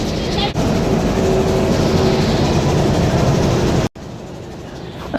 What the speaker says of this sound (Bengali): পঁচিশশো সিরিজের লোকোমোটিভ নিয়ে আজকে নারায়ণগঞ্জ কমিউটার নারায়ণগঞ্জের দিকে যাবে